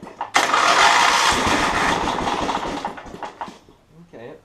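A Terramite backhoe engine, choke on, cranks and fires with a loud, rough roar right after a sharp start, then sputters and fades. A brief voice may be heard near the end.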